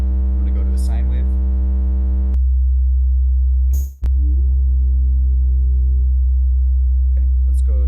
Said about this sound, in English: I'm going to go to a sine wave.